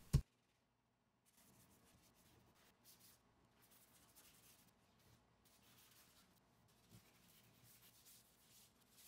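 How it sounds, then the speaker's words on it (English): Soft, steady rubbing strokes of hand sanding blemishes on a boat hull, faint and close, following a sharp knock at the start and a moment of silence. "I'm sanding the individual blemishes prior to applying the filler"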